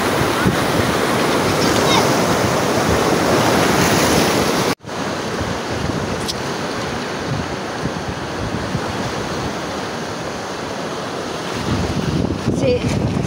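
Ocean surf rolls onto a beach in a steady, loud wash of breaking waves, with wind buffeting the microphone throughout and a brief cut partway through.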